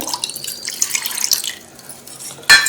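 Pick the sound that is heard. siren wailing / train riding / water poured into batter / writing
water poured into batter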